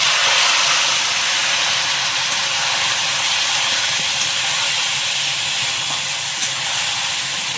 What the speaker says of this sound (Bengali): মিশিয়ে দিলাম ওই গরম তেলের মধ্যে